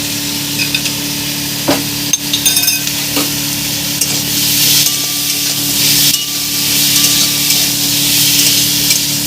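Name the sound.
stirring paneer frying lightly in oil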